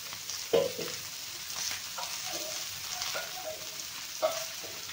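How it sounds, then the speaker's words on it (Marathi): Onion frying in a little oil for a quick egg curry, with a steady soft sizzle and a few louder scrapes of a spoon stirring the pan. "थोडंसं तेल टाकून भाजलं ना तर कांदा आपला लवकर भाजेल"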